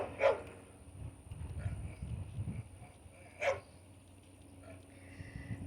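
A dog barks across the way on a quiet rural morning, two or three distant, fairly faint barks spaced apart over a low background rumble.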